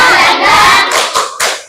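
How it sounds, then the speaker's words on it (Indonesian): A class of students doing a rhythmic spirit clap in a classroom: loud close clapping and crowd noise, then several distinct sharp claps in a pattern near the end. "Kita tepuk semangat dulu yuk."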